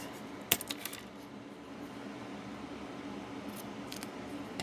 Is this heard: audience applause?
no